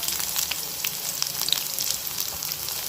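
Chopped onion and spices sizzle steadily in hot oil in a pan, the base for mint rice, a continuous bright crackle with scattered pops, close and moderately loud, no voices.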